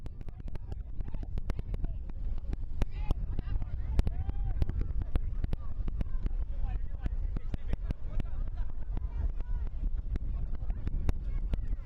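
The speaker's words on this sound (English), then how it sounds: "A very windy day in Windsor." Strong wind buffets the microphone in continuous low rumbling gusts at a soccer match in Windsor, Colorado, with a commentator's voice talking over it throughout.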